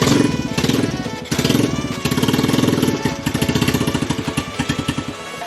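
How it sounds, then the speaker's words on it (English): A motorcycle engine with a freshly cleaned and rebuilt PZ26 carburettor runs loud and close, throbbing in a rapid, slightly uneven beat with small rises and dips in revs throughout. "now it's time to run the bike"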